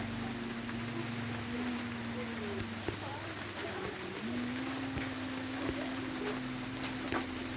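Steady rain patters and hisses throughout, with a low engine-like hum underneath and no voices.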